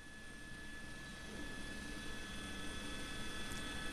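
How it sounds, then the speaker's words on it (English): An LA County Sheriff police helicopter flies overhead during a pursuit, giving a steady, continuous rotor and engine drone with high whine tones, moderately distant and with no talk. "LA County Sheriff still with their helicopter overhead calling out the shots for those units on the ground."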